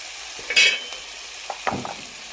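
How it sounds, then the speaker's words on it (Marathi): Turmeric sautés in a pan for drumstick flower curry, with a faint background sizzle and a few brief scraping stirs of a spoon against the pan. "हळद, परतून घ्यायचं आहे।"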